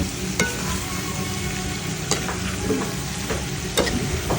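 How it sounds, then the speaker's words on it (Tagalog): Pork innards sauté in a pan with onion, garlic and ginger, a continuous close sizzle with occasional scraping clicks from a utensil as the mixture is stirred. "Nilagay ko na nga tong laman loob sa ginigisa nating sibuyas, bawang at luya at ito haluin na nga natin."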